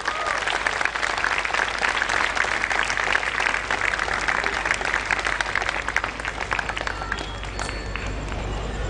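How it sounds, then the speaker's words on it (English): A school audience of parents claps in dense, sustained applause that stays loud throughout, then eases slightly near the end. "They deserve a big round of applause"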